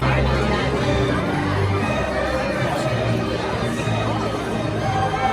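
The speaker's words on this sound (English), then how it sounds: "don't come into Disneyland at 5, like between 5 and 5:30, or you're gonna get stuck in this crowd" Dense crowd of visitors at Disneyland, a steady babble of many voices with children's shouts mixed in, close and continuous throughout.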